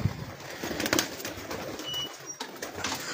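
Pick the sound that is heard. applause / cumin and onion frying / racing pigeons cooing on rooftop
racing pigeons cooing on rooftop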